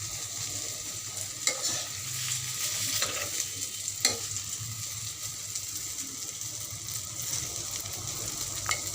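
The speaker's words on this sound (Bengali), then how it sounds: "বেগুন ভাজাটা ফ্রাই হয়ে আসছে।" Slices of eggplant frying in a pan give a steady, even sizzle throughout, with a few sharp clinks or stirring scrapes, and nobody speaks.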